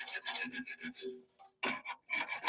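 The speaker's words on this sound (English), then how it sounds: "I'm also got a little wire brush." A small wire brush scrubs metal near a CB antenna mount on a classic VW Beetle, giving close, quick rasping strokes in short bursts with brief pauses between them.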